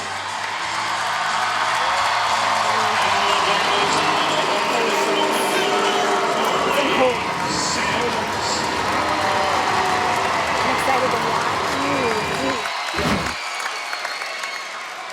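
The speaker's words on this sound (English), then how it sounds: "And now Carley Sims, you heard the cheers from the crowd in this 4 lineup tonight." A large arena crowd cheers and roars continuously at a women's college gymnastics meet between Alabama and Georgia, a dense sustained wash of noise with voices audible within it and a brief dip near the end.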